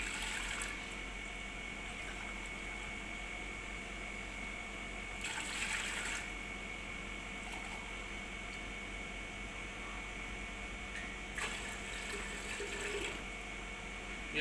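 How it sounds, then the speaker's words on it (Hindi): Water pours steadily into a vessel of chickpeas set to soak, a continuous faint rushing trickle with two brief louder splashy surges. "हम इसमें ये छोले गलाने के लिए पानी डालेंगे 1 किलो।"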